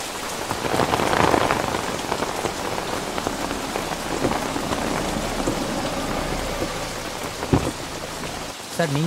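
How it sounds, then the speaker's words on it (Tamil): Heavy rain pours down in a dense, constant hiss with scattered louder splashes, continuous throughout and close at hand. "என்ன மழை."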